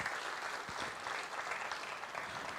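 An audience claps together through the whole stretch, a dense even patter of many hands at steady loudness in a hall.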